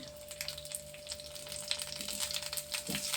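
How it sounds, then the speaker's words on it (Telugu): Curry leaves splutter and crackle in hot oil, with a steady sizzle dotted by sharp pops, close up, alongside a faint steady hum. "అది సెదురుతుంది కరివేపాకు"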